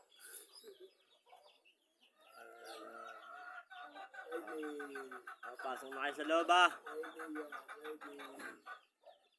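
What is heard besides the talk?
chickens clucking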